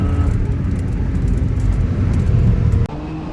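A 500hp Kia Stinger making a hard quarter-mile acceleration run, a loud, steady low engine roar heard from inside the car that holds for about three seconds before dropping off abruptly near the end.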